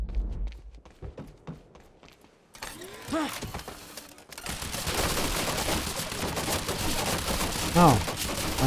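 Turret gunfire in Quantum Break, a sustained dense rattle of rapid shots that starts partway through and continues loudly to the end, with someone speaking briefly before and during it.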